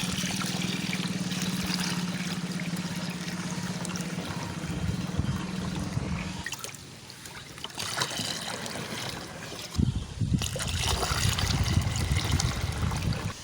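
Water pours steadily from a container for planting chili, a close continuous trickling stream that stops midway, then resumes with splashing and sloshing.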